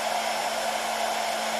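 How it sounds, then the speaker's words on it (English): A hair dryer blows in a steady, loud, unbroken whoosh with a constant hum, aimed at the propeller of a mini wind turbine. "So let me just switch the hairdryer on,"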